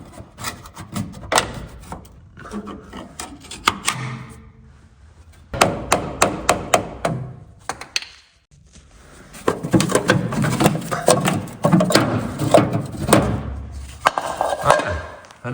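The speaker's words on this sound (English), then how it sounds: "We're gonna pull this valve cover off." Valve cover being pried and pulled off a 1964 Volkswagen Beetle engine, bursts of metallic knocking, tapping and scraping close up, separated by brief quiet pauses, with a longer rattling stretch at the end.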